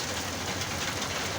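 Heavy rainstorm pouring down, a dense continuous roar of rain with a low rumble underneath, loud and steady with no gaps and no talk.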